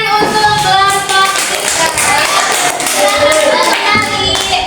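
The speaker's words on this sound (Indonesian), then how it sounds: "Tepuk tangan untuk kelompok" A group of children claps together in a classroom, a dense, steady patter of hands that runs the whole time, with young voices mixed in.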